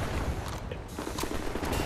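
Gunfire in the first-person shooter Wolfenstein: The New Order, a dense, continuous burst of rapid shots and clattering mechanisms, loud and close throughout.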